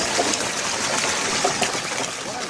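Homemade wind pump system worked by hand, no turbine yet on the tower, pushing water in a steady gushing flow with a dense, continuous splashing wash, fairly loud and close.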